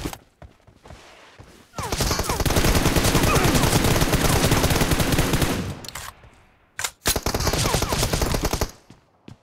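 Sustained automatic gunfire from the mobile battle-royale game PUBG Mobile, a loud unbroken burst of several seconds followed by shorter rapid volleys, with no talk.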